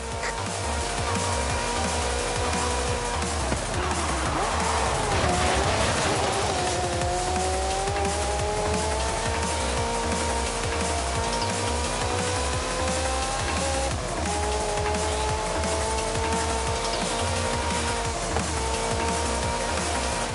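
A Ferrari F40 in the racing game Forza Horizon 5 drives with a loud, continuous engine roar that rises and falls in pitch through gear changes, with tire squeal mixed in and no talking.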